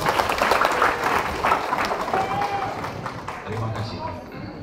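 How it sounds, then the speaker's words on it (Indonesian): Audience applause at a formal ceremony of LPPMP PELITA Lampung, a dense, steady clapping throughout that fades toward the end, with voices over the noise. "Saya mohon kita berikan aplaus untuk Ibu."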